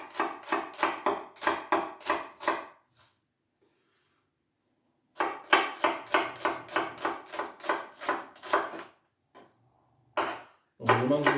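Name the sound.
chopping onion roughly with a knife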